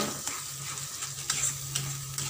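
Melon seeds frying in a pan while being stirred, a steady close sizzle punctuated by a series of light scraping taps from a spatula at irregular intervals, no speech.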